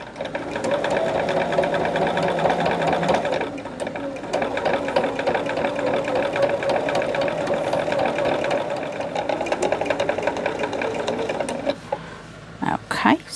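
Sewing machine stitching through fabric, a loud continuous rapid mechanical chatter running almost the whole time, briefly easing once and stopping near the end.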